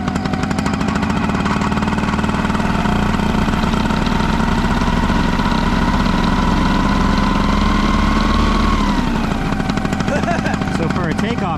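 Engine of a small whimsical flying machine running near and loud with the clutch engaged, a rough, steady chugging drone that shifts in pitch toward the end, with people talking over it.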